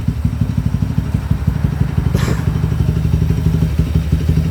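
A Honda Tiger motorcycle with a TRT-built engine runs steadily at close range, its low, rapid, uneven exhaust pulses thudding with a mechanical clatter throughout, and nobody speaks.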